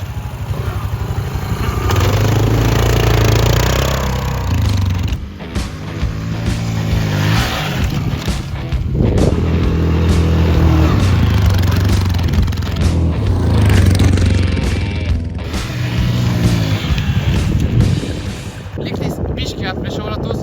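Yamaha quad bike riding on sand dunes, a loud engine revving up and easing off in surges with wind buffeting the microphone, close throughout, while a person talks over it.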